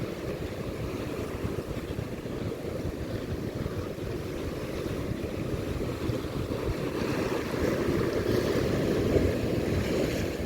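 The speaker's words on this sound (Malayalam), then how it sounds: "നല്ല കാറ്റൊക്കെ ഉണ്ട് കേട്ടോ." Out at sea while fishing, wind rushes and buffets steadily over the sound of waves washing against the boat, growing slightly louder toward the end.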